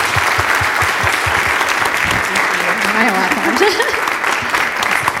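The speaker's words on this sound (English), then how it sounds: "How about we give a round of applause for our guests tonight?" Audience applause for guests at an evening talk on Muslim outreach, steady clapping throughout while a speaker talks over it near the end.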